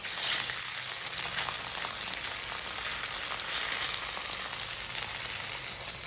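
An egg fries in a hot pan with a steady, dense crackling sizzle, close and continuous throughout, with no voices.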